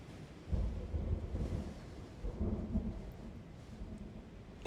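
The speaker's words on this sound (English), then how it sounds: "That sound of the thunder is very realistic." Rumbling thunder from the video game Slay the Princess, a low continuous roll with swells and quieter stretches, heard alone without voices.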